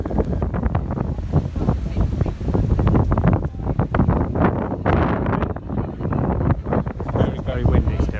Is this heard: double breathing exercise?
no